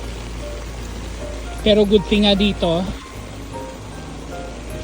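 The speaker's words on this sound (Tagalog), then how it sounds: "may dala kang payong kasi yung ulan dito unpredictable" Rain falls outdoors in Singapore as a continuous soft hiss of drops on surfaces, with a person talking briefly over it midway.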